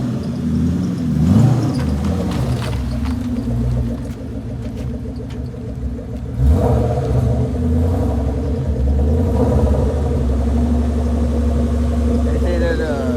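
A Ford Mustang SVT Cobra Terminator running on a dyno: a loud, steady, deep engine drone that swells briefly midway, close and continuous throughout.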